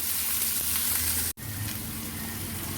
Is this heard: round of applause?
no